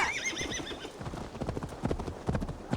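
Horse hooves clip-clopping at a quick gallop in Assassin's Creed Valhalla, with a neigh at the start followed by steady, fairly close hoofbeats and no talking.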